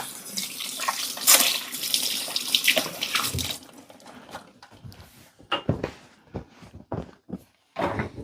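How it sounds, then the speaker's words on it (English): Tap water running into a kitchen sink for a few seconds while hands are washed, followed by quieter clunks and handling knocks as the water stops. "I'll wash my hands real quick and I'll show you."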